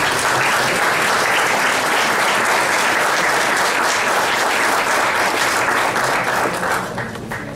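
Sustained loud applause from a crowd for a newly elected vice mayor, steady clapping throughout before tapering slightly at the end.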